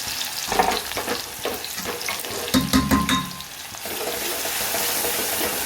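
Oil sizzles and crackles as cumin, ginger-garlic paste, chillies and onion fry, with scraping and stirring in the pan, steady and close.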